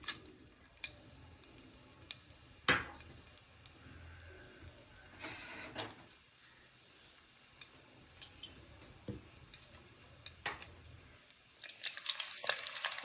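Cloves, cardamom and cinnamon sticks dropped into hot oil for prawn biryani, a faint continuous sizzle broken by scattered crackles and pops, with a few sharper spatters and a louder hiss near the end.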